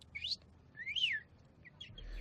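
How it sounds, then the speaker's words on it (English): A bird chirps a few times in quick, bright, upward-and-downward whistled notes, fairly near and clear over a low background hum. "It's just a bird."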